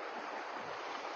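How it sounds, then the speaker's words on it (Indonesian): A clear, fast-flowing rocky river at Sungai Lui in Hulu Langat, its steady broadband rush of water holding even and close throughout, with no voices over it. "So inilah sungai dia. Jernih dan deras, laju."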